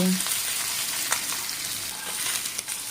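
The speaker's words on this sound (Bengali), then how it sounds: "দেখো ঠিক এইরকমভাবে মাছগুলোকে লাল লাল করে ভেজে তুলে নিচ্ছি" Pabda fish sizzle in hot oil in a Bengali kitchen, a steady crackling hiss with small pops and a few spatula scrapes, close and fairly loud without talk.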